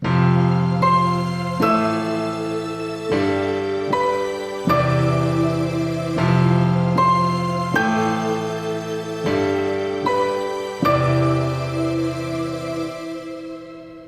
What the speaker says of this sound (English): I take the piano, those 2 string machines, the glockenspiel, and that big synth patch